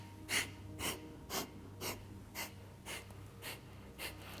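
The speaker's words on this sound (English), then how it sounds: "Keep your Breath of Fire really strong." Rapid rhythmic Breath of Fire yogic breathing during a Kundalini kriya, eight sharp forceful exhales at an even pace, close and fairly soft.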